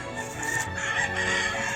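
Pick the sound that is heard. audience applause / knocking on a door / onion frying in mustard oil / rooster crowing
rooster crowing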